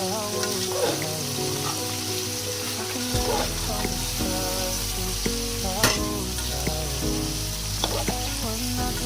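Food frying in a pan with a little sugar being stirred, a continuous sizzle with periodic scraping strokes over steady background music.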